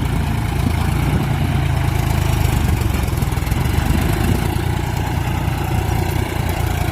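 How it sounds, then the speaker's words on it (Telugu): A tractor engine ploughing a field drones loudly and steadily, its deep rumble unbroken throughout with no voices. "ట్రాక్టర్ ఎక్కువ బలం ఉపయోగించాలి."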